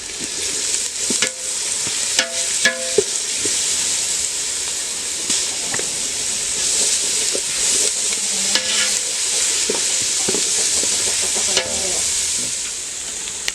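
Ginger garlic paste frying for homemade chicken dum biryani, a loud steady sizzle and hiss running throughout, with occasional close scrapes and clinks of a stirring spoon against the pan.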